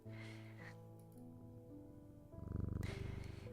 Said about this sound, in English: When in doubt, pet the cat.